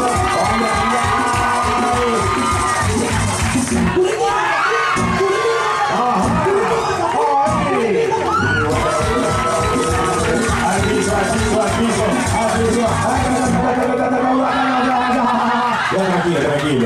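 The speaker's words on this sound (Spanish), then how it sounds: "Vamos por medio de aplausos, gritos e histeria." A loud party crowd aboard a yacht off San Andres Island cheers, shouts and whoops continuously with dense overlapping voices and music underneath, staying at a steady high level throughout.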